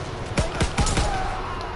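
Rapid gunfire from Call of Duty: WWII, four quick sharp shots in a burst over constant game ambience, with a brief voice underneath.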